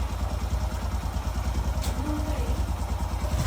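A scooter engine runs close by with a steady, low pulsing putter as it idles and pulls away, the rumble holding even throughout.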